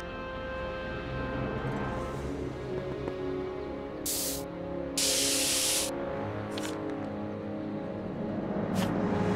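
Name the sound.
spray paint can spraying, from the video game Back to the Future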